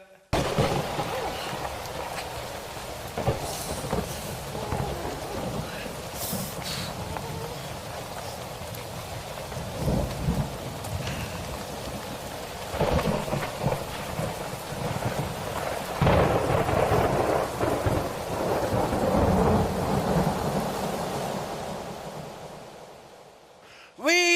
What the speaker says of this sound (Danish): Stormen rammer England med uhørt styrke.